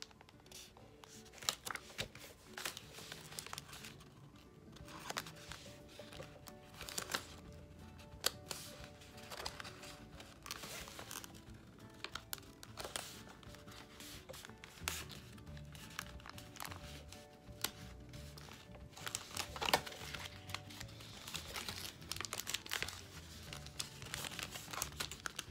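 A paper Skittles candy wrapper made with a Cricut is folded by hand, giving soft, close crinkling and rustling paper sounds with scattered small taps over a quiet background, with no talk.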